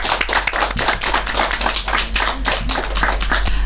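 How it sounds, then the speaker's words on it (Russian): A studio audience at a children's talk show claps in continuous, loud, dense applause that carries on evenly from start to finish. "Аплодисменты."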